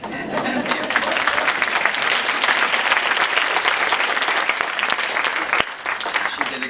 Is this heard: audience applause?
yes